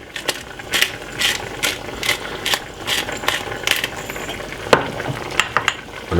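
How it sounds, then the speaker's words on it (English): A pepper grinder cracks pepper over salmon in a rhythmic series of close, crisp ratcheting crunches, about a dozen twists in steady succession. "A little bit of cracked pepper."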